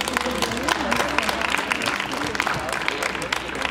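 Steady dense applause from a crowd at an outdoor winter charity concert in Graz for the Styrian cancer aid, continuous clapping throughout with a voice faintly mixed in.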